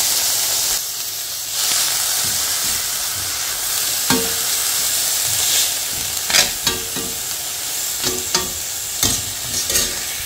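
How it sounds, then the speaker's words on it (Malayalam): Spinach sautéing in coconut oil in a pan: a loud, continuous hissing sizzle with steam, broken by scattered scraping stirs near the end, close and with no voices. "ചീര നമുക്കൊന്ന് വഴറ്റിയെടുക്കാം കേട്ടോ"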